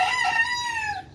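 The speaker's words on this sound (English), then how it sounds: "They have chickens in here. Black chickens." Black chicken in a bird garden crowing once, a loud close cock-a-doodle-doo lasting about a second, alone with no talking.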